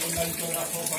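Water from a courtyard fountain on a Moroccan-style patio runs continuously, a steady close splashing and gurgling hiss with no pauses.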